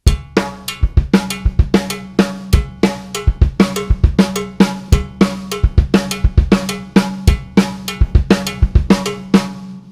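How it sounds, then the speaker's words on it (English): A songo groove played on a drum kit, kick and snare locking into a brisk, syncopated pattern with sharp repeating hits, loud and close, no voices. "here's the basic pattern of the songo between the kick and snare"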